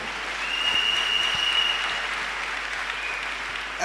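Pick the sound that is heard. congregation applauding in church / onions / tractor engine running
congregation applauding in church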